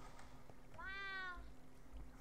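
A pet cat in Minecraft, played with the Better Than Wolves mod, gives a single clear meow that sweeps up and falls away, heard fairly softly over quiet game ambience.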